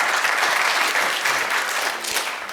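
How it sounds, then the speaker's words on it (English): Audience applause following a medical quality meeting panel discussion, steady dense clapping from a crowd filling the room, tapering slightly near the end. "let's give another round of applause to all of our panelists here"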